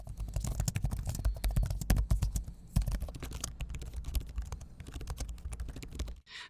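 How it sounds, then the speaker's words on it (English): Rapid, steady clicking of MSI Stealth laptop keys, light with little resistance, being typed on, close and crisp, continuous for several seconds before stopping. "The keys have this satisfying click to them with little resistance"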